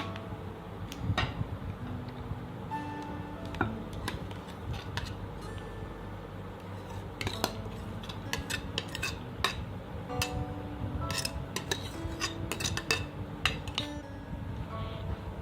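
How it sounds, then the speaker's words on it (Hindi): A spoon clinks and scrapes against a dish while fruit custard with banana and apple is layered. The light, irregular taps and scrapes are close and fairly quiet, spread over a low steady background hum. "बाकी का बचा हुआ कस्टर्ड भी हमने इसके ऊपर डाल दिया है।"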